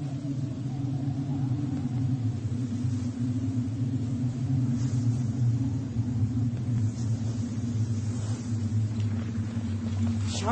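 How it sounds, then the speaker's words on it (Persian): A storm sound effect in a historical drama gives a steady, loud, low rumble that holds without a break for about ten seconds, with a faint hiss above it. "طوفان است. باید در جای پناه بگیریم."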